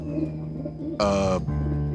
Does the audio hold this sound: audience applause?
no